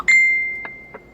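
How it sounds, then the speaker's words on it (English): A phone notification rings out as a single clear chime that rings on, followed by two faint short blips, in a quiet room during wood carving. "Forgot to put the phone on airplane mode, so everybody that wants to talk to me is binging in now."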